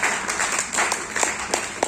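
An audience applauds with scattered, moderately loud claps that rise and fall over a couple of seconds.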